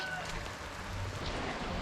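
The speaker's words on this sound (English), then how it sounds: "It's raining again. That's all it does is rain." Rain falling on a farm near a barn, a steady broadband hiss of drops with a low rumble beneath, continuous and moderately loud, with no clear talk.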